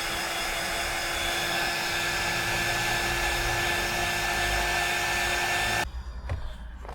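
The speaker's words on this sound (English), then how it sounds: "they react a lot better to a heat gun than they do a lighter" A heat gun blows hard with a steady, loud whooshing drone while shrinking connectors on a spotlight wiring job, running evenly for about six seconds before abruptly cutting out to a quieter room.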